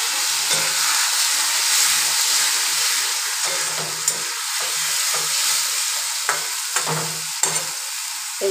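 Spice paste (masala) fries in a pan with a continuous sizzle, broken by repeated scraping strokes of a stirring spoon at an uneven pace.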